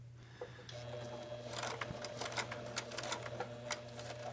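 A sewing machine stitches a seam on a stuffed Tilda-style fabric doll leg, its needle running in a steady rapid patter close by after a quieter start, with a low motor hum beneath and no talking.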